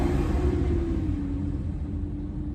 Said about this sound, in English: this truck is coming and it's loud